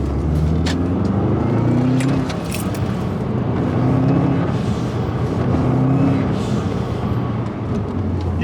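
A Subaru Impreza WRX is driven round a very tight corner, its engine droning steadily and close, rising and falling in revs as the driver works the pedal on and off.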